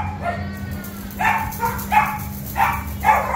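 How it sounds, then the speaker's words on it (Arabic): French terrier dogs and puppies barking at a pet market, a series of five short, sharp yips close by over a steady low hum, with faint background voices. "كلاب تيرير فرنسي."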